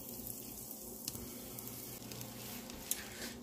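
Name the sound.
butter sizzling in hot pan, bread frying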